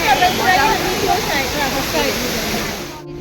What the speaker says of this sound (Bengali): দেখা যাচ্ছে আমাকে এখানে নিচ দিয়েও জল যাচ্ছে